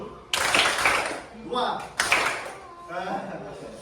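A class claps slowly in rhythm, with two loud, sharp group claps spaced well apart and children's voices chanting between them.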